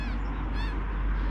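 Crows caw in a foggy field at a feeding spot, a couple of short harsh calls heard over a loud, constant low rumble of wind or background noise.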